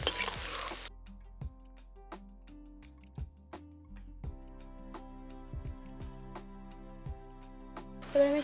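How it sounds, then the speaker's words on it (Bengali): Leafy greens are stirred in frying oil in a pan: sharp metal spatula clinks and taps against the pan come at irregular intervals over a faint, low sizzle, with a brief louder burst of frying at the start and end. "তো শাকটাকে আমি খুব সুন্দরভাবে তেলের মধ্যে নাড়িয়ে নিলাম"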